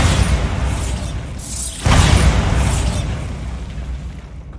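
A Bombarda blasting spell explodes in Hogwarts Legacy, a single sudden booming blast with a whooshing rush over a dense rumbling game soundscape.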